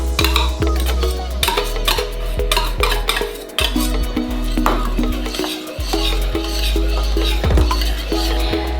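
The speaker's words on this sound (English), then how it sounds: "we're going to add 100 grams of butter that's diced, and we're going to whisk it until it's incorporated" A whisk clatters steadily against a bowl as diced butter is worked into a warm mixture for a strawberry fraisier cake, quick rhythmic ticks running throughout under faint background music.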